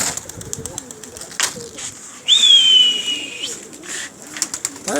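Domestic pigeons kept and flown by a fancier coo softly close by, with a sharp whistle in the middle and occasional wing flutters and faint background sounds.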